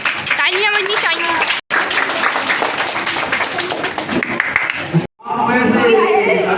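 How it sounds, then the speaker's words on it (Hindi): Audience applause at a school prize event, dense clapping sustained for several seconds with crowd chatter and voices mixed in, cut briefly twice before resuming alongside speech. "लेकिन अभी तालियां बजनी चाहिए।"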